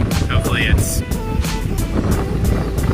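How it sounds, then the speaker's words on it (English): Strong gusting wind buffets the microphone on an exposed mountain trail near a rocky bowl, a steady loud roar with low rumble throughout, and brief voice-like sounds over it. "hopefully the wind dies down once we get down a little lower"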